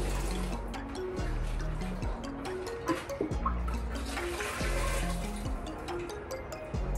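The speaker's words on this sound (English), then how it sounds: "when you add water to this resin, it becomes like a sticky glue a little bit" Water pours and trickles steadily into replacement resin for a home water softener, a continuous wet filling sound with a low hum beneath it throughout.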